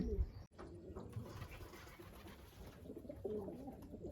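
Soft wild pigeon cooing drifts in at a distance from a window ledge, low and muffled, with faint rustling and background noise throughout.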